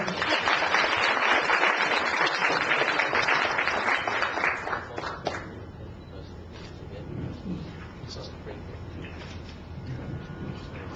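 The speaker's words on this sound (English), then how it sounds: "A round of applause for our speaker." An audience at a public lecture on environmental policy applauds the speaker, a loud sustained round of clapping for about five seconds that then fades into quieter room noise and murmuring voices.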